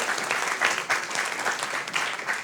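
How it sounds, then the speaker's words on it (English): Steady applause from an audience thanking the speakers after a panel session at a university summer course, moderately loud with rippling peaks of clapping and no voices on top. "let's give a big applause once again for our speakers"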